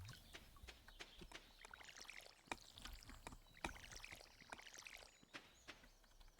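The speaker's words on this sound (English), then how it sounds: "We're just out of water. Let's fill that up again." A watering can being refilled in the video game Stardew Valley, heard as a quiet run of bubbly, trickling water splashes in quick irregular bursts.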